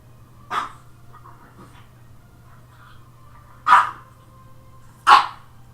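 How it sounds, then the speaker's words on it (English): A dog barks three times, single sharp woofs spaced apart at close range in a quiet home with a steady low hum underneath and no talking. "Sorry about the dog barking."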